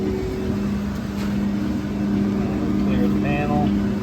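An Antunes vertical toaster runs loudly with a steady mechanical drone and low gear hum that holds throughout, while a voice briefly speaks near the end.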